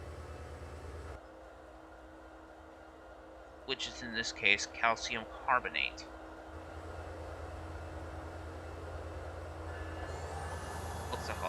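Freight train loaded with minerals rolling through a switch on a four-track crossing in Transport Fever 2, a steady low rumble that brightens near the end, with someone talking over it for a few seconds.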